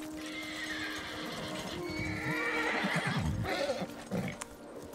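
A horse in the video game Ghost of Tsushima whinnies loudly, with a drawn-out neigh and a few hoof clops under it, close and clear.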